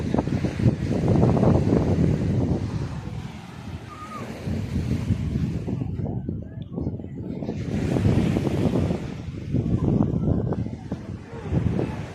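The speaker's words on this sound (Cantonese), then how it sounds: "順便嚟睇下浪啊，聽下海風啊風聲咁樣啦。" Steady wind blowing at the seashore with waves washing in and out, a continuous broad rush that swells and eases, no voices.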